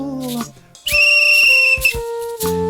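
A railway guard's whistle blown at a station platform, sounding as long, steady shrill tones that hold for about a second, set amid a sung folk performance with tonal accompaniment before and after.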